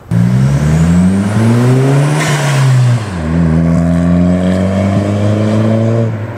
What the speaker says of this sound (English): You hear the wastegate, you hear the spool.